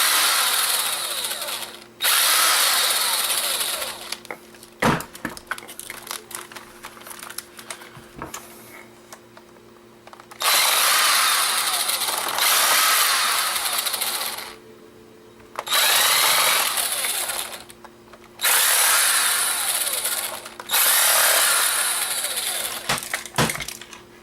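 Tiny screws being backed out of an old camera with a small power driver: several whirring bursts of a few seconds each, separated by short pauses, close and fairly loud.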